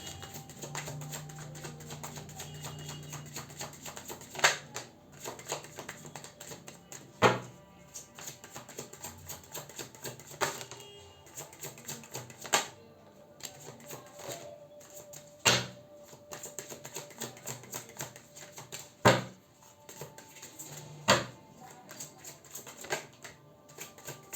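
Tarot cards are handled and adjusted on a surface, producing quiet clicks and taps spread irregularly over a long stretch, with a few sharper knocks standing out.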